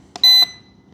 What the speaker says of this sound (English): very loud buzzer.